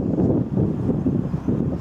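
Strong wind buffeting the microphone outdoors, a steady low rumbling roar with gusty swells throughout the short stretch, no voices.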